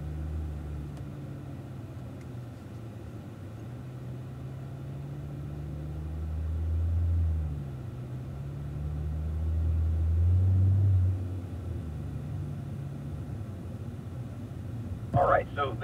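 A 2016 Cadillac ATS-V creeps slowly through a busy race-track pit lane, its low engine burble and rumble steady and close, swelling gently twice as the car rolls on, with a brief clatter at the very end.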